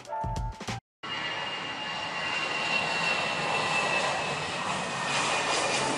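Aircraft engines roar steadily and loudly from the plane-viewing point at Khon Kaen International Airport in Thailand, holding a broad sustained rush after a brief drop to silence near the start.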